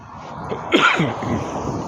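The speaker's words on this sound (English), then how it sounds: "sorry for the coughing" A single sharp, explosive cough bursts out close to the microphone from a congested person, brief and loud against a quiet background.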